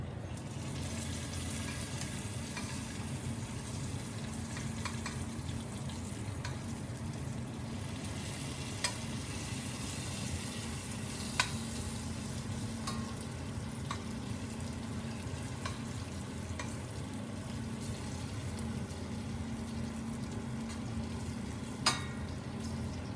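Bacon frying in a pan in a home kitchen gives a steady close sizzle and crackle that carries on without a break, with a few faint clicks and no talking.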